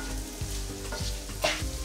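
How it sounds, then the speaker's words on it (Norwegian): Onions and carrots fry in oil in a medium-hot pan with a continuous close sizzle, broken by soft stirring scrapes and one brighter clatter near the end; nobody speaks. "Panne med olje og løken oppi. Og gulrøttene."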